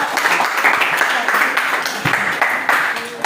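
A classroom group of students claps for a presenting group, a dense burst of applause filling the room at close range and slowly fading, with a few voices mixed in.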